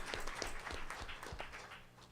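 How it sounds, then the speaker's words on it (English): Applause from an audience at a surgical health care forum in Houston, a fairly quiet, scattered patter of clapping that tapers off toward the end. "Let's give all of them a great applause"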